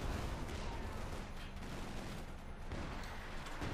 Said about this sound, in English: Artillery firing down there, close to the machine gun.